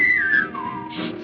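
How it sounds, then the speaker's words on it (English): Someone whistles a bright melodic phrase in a classic musical song, a clear sliding tone that falls in pitch, close and alone, fading softly at the end. "whistling"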